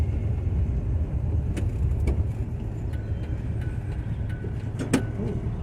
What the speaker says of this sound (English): Nice sunny day for a test drive. Right, foot down. Oh, that's so much better. Just allow that engine to breathe.